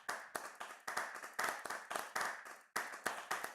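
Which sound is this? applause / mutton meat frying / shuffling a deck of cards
applause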